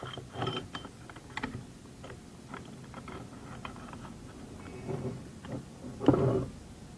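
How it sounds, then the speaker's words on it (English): Aluminum extrusions slide onto a T-slot, making faint scraping clicks and a few soft metallic knocks, the loudest near the end. "Simply slides on the T-slot"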